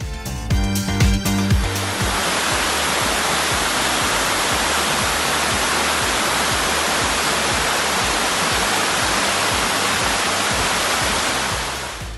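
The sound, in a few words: waterfall pouring into a pool, Ming Yau Falls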